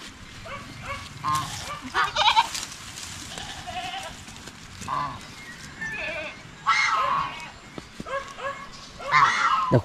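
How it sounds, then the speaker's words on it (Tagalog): Several goats bleat loudly and close by in a pen, repeated calls in irregular bursts with quieter farmyard noise between them. "nasa loob ng kulungan yung iba nating kambing"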